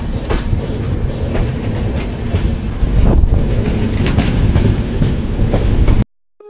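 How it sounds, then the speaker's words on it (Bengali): Himgiri Express passenger train rolling away after departure, a steady loud rumble with clattering wheel beats and rail noise throughout, cutting off abruptly near the end. "ট্রেন ছেড়ে দিয়েছে"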